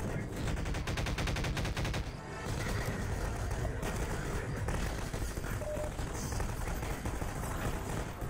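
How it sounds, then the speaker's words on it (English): Combine soldiers firing at the player in Garry's Mod, a dense rapid-fire burst of automatic gunfire that keeps up almost without pause, loud and close, with a brief lull near the start and faint talk underneath. "No, the combines are shooting you."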